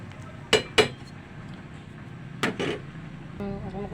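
A spoon stirs pasta soup (sopas) boiling in a pot, giving a few sharp metal clinks against the rim amid a low bubbling simmer, close and fairly quiet.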